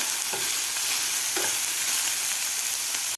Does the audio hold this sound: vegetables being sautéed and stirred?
yes